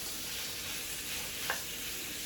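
Sausage stirred and browning in a frying pan, a faint steady sizzle with one small scrape of the spoon midway.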